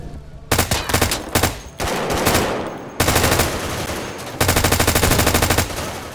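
Automatic weapons fire in a Source engine war game, dense loud bursts of rapid machine-gun shots with short gaps between volleys, echoing continuously.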